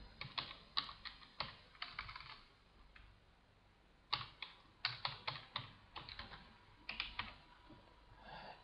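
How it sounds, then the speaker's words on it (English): Quiet clatter of a computer keyboard as someone types a username and password, bursts of rapid key taps separated by short pauses, close-up with no talking. "I'm going to type in my username, and then I'm going to type in my password"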